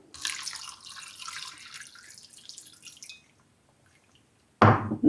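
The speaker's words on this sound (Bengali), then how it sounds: "দিয়ে দিচ্ছি সামান্য পরিমাণ পানি।" A small amount of water poured into goat meat coated with turmeric and chili powder for an achari mutton curry, a splashy pour lasting about three seconds, then quiet before a sudden loud clunk.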